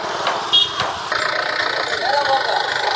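A Mahindra Bolero pickup truck engine idles with a steady, close rumble at a construction site for ready-made compound walls, while people talk over it.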